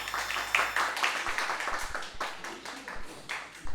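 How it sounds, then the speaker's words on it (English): An audience at a youth empowerment event on studying and choosing university claps, a sparse, uneven patter of individual hand claps, fairly close and moderately loud, with some voices murmuring underneath. "let's clap first"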